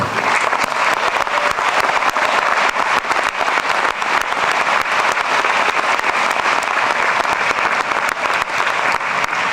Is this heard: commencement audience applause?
yes